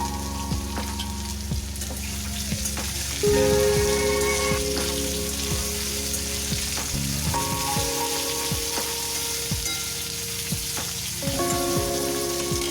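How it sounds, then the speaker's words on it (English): Spinach and mixed vegetables fry in a pan with a steady, close sizzle and crackle throughout, joined by occasional stirring scrapes and clinks. "First we'll fry this properly."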